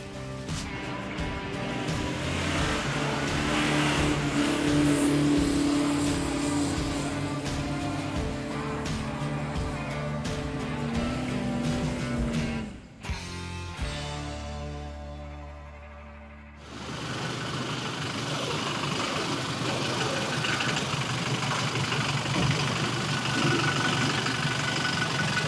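A 4x4 engine labours up a steep hill on the Garden Route, a steady low drone with a brief dip and pause midway before the engine picks up again under rough, gravelly noise.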